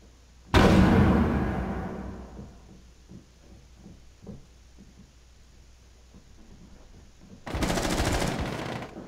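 Gunfire in Rainbow Six Siege, shooting out a double window: a loud, sudden burst of shots rings out and fades, scattered cracks and impacts follow, then a second heavy burst erupts near the end.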